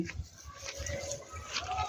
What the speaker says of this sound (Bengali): ছাগলটা তো খুব সুন্দর